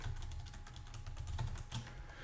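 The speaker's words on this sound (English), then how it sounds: "I'm going to type this up here" Fingers typing on a computer keyboard, a quick run of soft, close key clicks over a low background hum.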